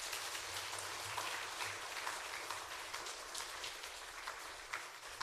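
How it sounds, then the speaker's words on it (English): Steady dense patter of applause from the audience at a volunteer engagement event in Kenya, even and sustained throughout with no talk over it. "So could we all give ourselves a round of applause?"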